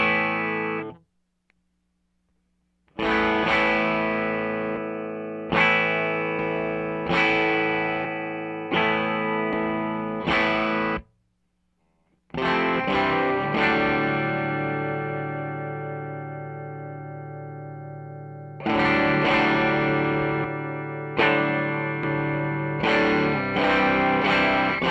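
Overdriven electric guitar on the bridge pickup runs through an Earthquaker Devices Speaker Cranker overdrive boost into a Two-Rock Classic amp set clean. Loud, sustained chords ring in repeated bursts, broken by two short silent gaps.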